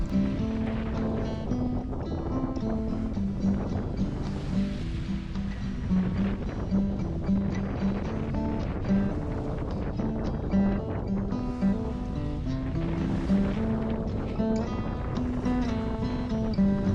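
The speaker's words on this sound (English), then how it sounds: "Oh, and the wind came back." Wind rushing steadily while a boat sails at sea, a constant broadband roar with water wash beneath, loud and unbroken throughout.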